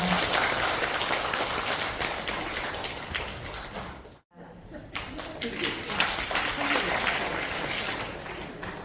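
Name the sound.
applause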